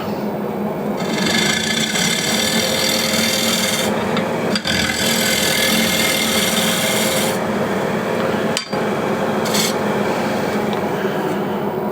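A bowl gouge cuts steadily into a spinning wooden bowl on a lathe as it is hollowed and cleaned up, giving a loud continuous rasping, scraping whir with a couple of brief breaks.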